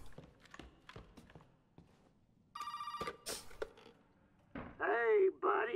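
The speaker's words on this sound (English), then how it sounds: "Phone!" A telephone ringing in the horror game Resident Evil 7, a bright electronic bell trill in a couple of bursts amid footsteps and clicks, with a voice briefly exclaiming near the end.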